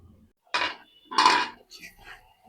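Metal lid set onto a pot of simmering dried Bombay duck curry, two sharp clanks of metal close by, then a softer rattle as it settles.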